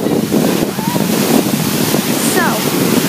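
Ocean surf breaking at a beach with steady wind buffeting the microphone, a continuous broadband wash of waves, loud and close, with brief faint chirps above it.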